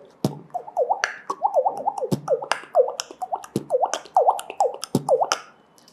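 A beatboxer's voice imitates water drops, making a quick rhythmic run of plinking, bubbly pops with sharp clicks between them, close and alone.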